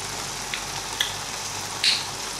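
Prawn thokku simmers in a pan with a steady, close sizzling hiss, broken by a couple of brief pops. No one speaks.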